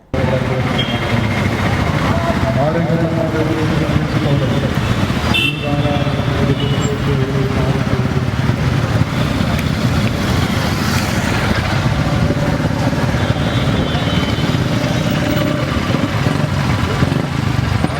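Motorcycles in a promotional bike rally for the Angamaly marathon rumble past continuously amid general road traffic, a steady close engine drone with voices talking over it.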